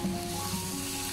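Chopped garlic and ginger sizzling in hot oil with browned onion, a loud, dense, continuous close-up frying hiss with a faint stir.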